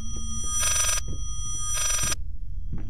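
A telephone rings inside a ghost-themed horror video game, sounding two loud electronic bell bursts of about half a second each, separated by a pause, with soft thumps beneath.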